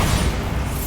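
A Bombarda explosive spell in Hogwarts Legacy lands as a loud, dense boom that rumbles steadily for about a second, with no talking.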